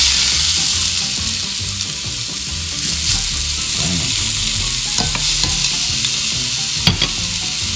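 Fresh caught tuna sears in a hot pan, a steady loud sizzle and crackle running throughout with occasional sharper pops and clinks of a utensil near the end.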